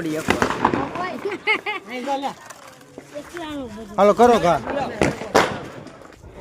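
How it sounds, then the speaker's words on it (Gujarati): Firecrackers go off outdoors as a few sharp, scattered bangs among people talking loudly nearby. "હજી ફટાકડા ફોડવાનું ચાલુ છે"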